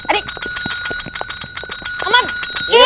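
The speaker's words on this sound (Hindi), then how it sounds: "थाने का घंटी है वो, मंदिर का घंटा नहीं है कि आप बार बार बजाएंगी" A bell at a police station is rung over and over in quick bright dings, loud and close, ending with rising overlapping chimes.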